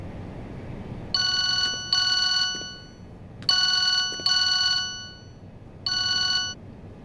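An electronic telephone ringtone trills in five steady pulses, grouped in pairs with a final single, over a low background hum, fairly close and clear.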